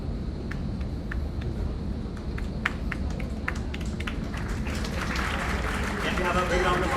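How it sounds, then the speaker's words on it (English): An audience at an LPU University Teach-A-Thon event claps in a dense crowd, applause holding steady and swelling louder toward the end, with scattered sharp claps standing out near the start. "So please give them a huge round of applause."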